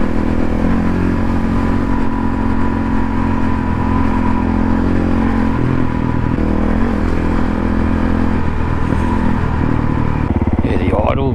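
Honda CRF450 rally motorcycle with its idle set about 500 rpm high, a steady close engine drone running throughout while riding, ending in a brief rising rev.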